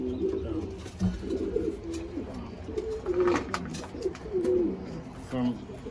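Pomeranian pouter pigeons cooing in a loft, a steady run of low, rolling coos close by with some faint background chirps.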